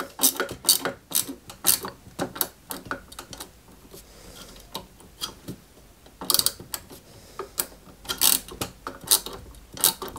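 Small screws driven into the front fenders of a 1/8-scale Citroen 2CV AZLP model kit, heard as close, repeated ratcheting clicks from a screwdriver in short bursts with brief pauses.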